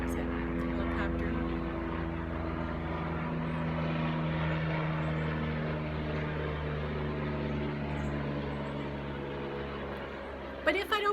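A helicopter drones steadily overhead, a continuous low engine hum with tonal rotor harmonics lasting throughout, fairly loud and constant, while a person talks over it.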